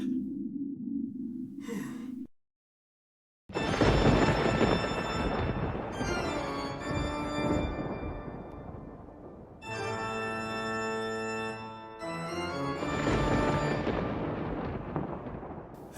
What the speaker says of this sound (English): look what I found. Thunder Machine.